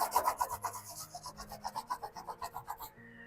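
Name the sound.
sanding with 3000 grit sandpaper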